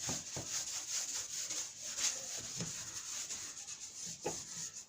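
Dry rubbing strokes of a duster or cloth wiping writing off a board, soft and close with irregular back-and-forth swipes and occasional louder scrubs, steady throughout with no talking.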